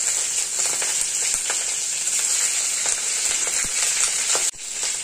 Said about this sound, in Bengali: তেলটা গরম হয়ে গেছে, আগে শুকনো লঙ্কাটা দিয়ে দেবো। দিয়ে তারপরে ইলিশ মাছের এই চিংড়াটা দিয়ে দেবো।